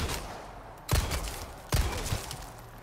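Two gunshots, a short time apart, in the Resident Evil 4 Remake village fight, each a sharp crack with a brief tail, over steady game ambience.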